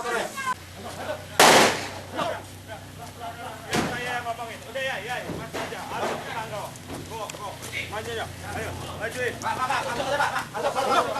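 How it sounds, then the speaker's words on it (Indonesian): Several sharp warning gunshots fired into the air by police crack out amid a noisy crowd, one loud blast standing out early, others scattered, with people shouting and talking throughout. "Petugas beberapa kali mengeluarkan tembakan peringatan ke udara"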